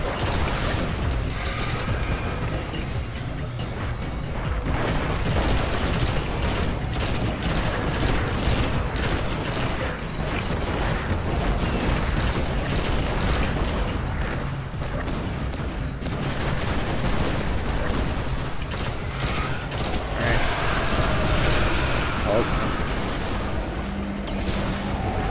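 Shooting and explosions in a video game, with dense, nearly continuous gunfire and booms roaring loudly through the whole stretch, no voices standing out.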